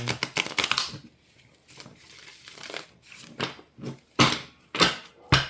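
Tarot cards being shuffled up close, a series of brisk papery riffles and taps in uneven bursts separated by short pauses.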